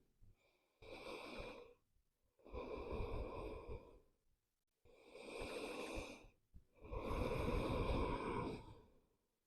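Slow yoga breathing in child's pose: four long, close breaths alternating inhale and exhale, each lasting one to two seconds with brief quiet gaps between, soft and airy with no talking.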